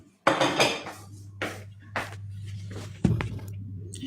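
A utensil scrapes and knocks on the bottom of a frying pan in a few separate bursts, with a sharp metallic clank near the end and a low steady hum underneath.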